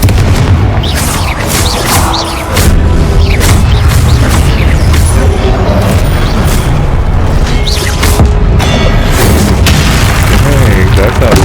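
A Confringo blast spell explodes in Hogwarts Legacy, a loud booming burst inside a dense, continuous wash of game effects and rumble, with a player talking over it.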